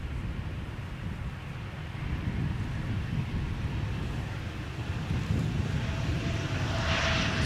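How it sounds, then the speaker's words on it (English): A Boeing 777 comes in to land at Amsterdam Schiphol Airport, a steady broad jet roar that holds evenly and swells slightly toward the end, with no voices. "We've got another 777 coming in."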